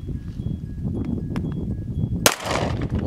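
A single loud pistol shot rings out at an outdoor range where steel pistol plates are being shot, a sharp crack with a short ringing tail, following a stretch of low background noise.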